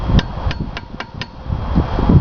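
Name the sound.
tapping a bolt with hammer and chisel on Mercury 1150 powerhead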